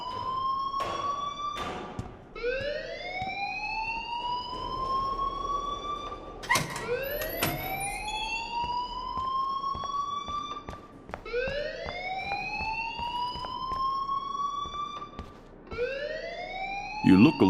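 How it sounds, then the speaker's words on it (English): A rising and falling alarm siren wails repeatedly in the video game Life is Strange, each sweep climbing then dropping, with speech heard underneath and brief sharp bangs between the cycles. "please turn off that alarm since that's your job"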